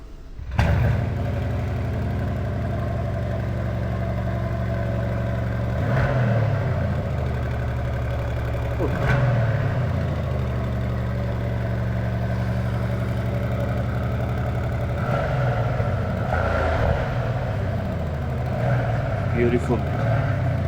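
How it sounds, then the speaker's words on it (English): Bentley Continental GT Speed V8 Hybrid starting up, then a steady deep idle with several short revs rising and settling, heard close and loud throughout. "So we're gonna get this car started."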